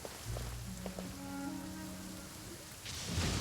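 Steady rain falls in Genshin Impact, a broad even hiss that holds through the whole stretch, with faint tonal game music underneath and a slightly louder wash near the end.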